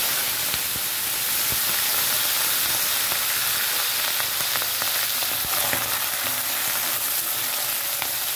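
Prawns frying in hot oil, giving a steady, even sizzle close by that holds fairly quietly throughout with no talk.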